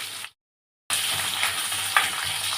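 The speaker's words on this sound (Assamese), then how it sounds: "এইখিনি ভালকৈ লৰাই লৈছোঁ। পিঁয়াজখিনি ৰঙা হ'বলৈ দিম," Onions frying with cumin seeds and bay leaves in a pan for sesame chicken, a steady close sizzle broken by a brief silent gap, with faint stirring scrapes.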